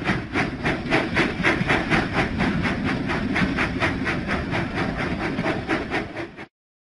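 A cartoon steam train from a Thomas & Friends children's game chuffs in a loud, rapid rhythmic beat with hissing steam, running alone for several seconds before cutting off abruptly.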